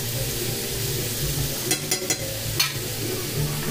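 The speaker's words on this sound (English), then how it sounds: "Time for onions. I'm frying in butter and olive oil." Steady sizzling of onions frying in butter and olive oil, with a few scraping stirs of a utensil in the pan.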